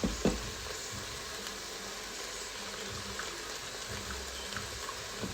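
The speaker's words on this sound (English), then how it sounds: "I'm gonna throw in the garlic now" Garlic sizzling in oil inside an Instant Pot, a steady close frying hiss with occasional soft stirring knocks.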